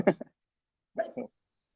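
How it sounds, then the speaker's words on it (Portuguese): A dog barks twice in short bursts somewhere in a home during an online conversation, the barks fairly faint and separated by about a second of silence. "já tem um cachorro latindo aí"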